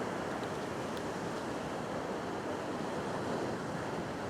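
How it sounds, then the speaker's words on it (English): Ocean surf at a rock fishing spot, a steady roaring wash of breaking waves with a constant hiss of wind across the microphone and no clear separate impacts. "I'm going to keep my eye on those waves out the back"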